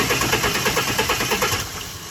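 A Mercedes engine fitted with two superchargers cranks over on its starter in a fast, rhythmic pulsing churn. It is close and moderately loud, then eases off near the end.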